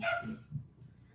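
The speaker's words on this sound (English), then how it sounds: "The dogs are having an epic battle out" Dogs bark indoors near a bedroom, with one short, close bark at the start followed by fainter yips and whimpers as the sound trails off.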